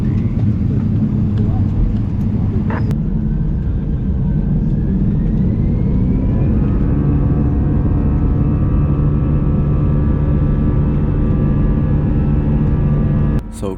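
Passenger jet engines roar steadily and loudly throughout, rising in pitch midway as thrust builds for takeoff on a flight from Toronto to Cuba, a continuous close cabin drone with no clear talk over it.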